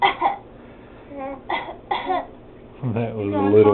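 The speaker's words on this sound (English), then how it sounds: "That was a little fake. You got a cough?" A young child gives a few deliberate fake coughs in short bursts, close and clear, followed by babbling vocal sounds.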